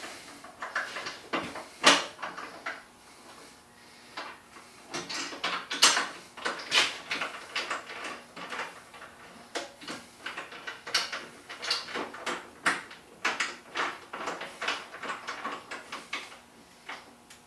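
Hand tools working on saddlebag guard bolts on a Road Star motorcycle: a string of close metallic clicks, ratcheting and small clanks in an irregular rhythm, fairly quiet with no speech.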